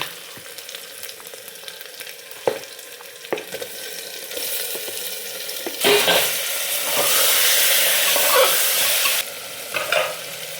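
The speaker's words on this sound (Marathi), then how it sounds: "आता हे मॅरिनेट केलेलं जे मटण आहे ते यात ॲड करून घेऊया." Marinated mutton for a Kolhapuri dum biryani fries in a pan with clanks of stirring, then a loud, sustained sizzle rises and carries on close by.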